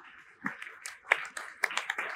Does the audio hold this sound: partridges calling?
no